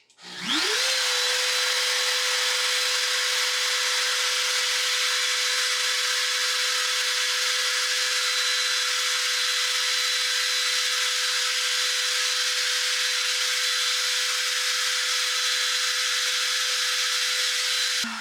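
A Onefinity CNC router spindle spins up quickly and holds a loud, steady high-pitched whine at maximum speed for the whole stretch, with no talk.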